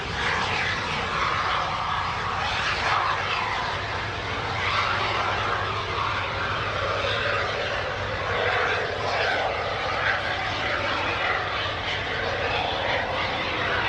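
A small jet sailplane on its takeoff roll at an airshow roars close by with a steady, broad engine whine that swells slightly and holds throughout.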